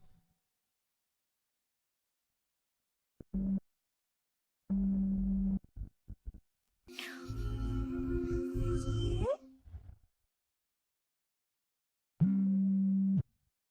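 Ringback tone of an outgoing telephone call, steady tone bursts repeating with long gaps, broken by a louder burst of mixed sound in the middle.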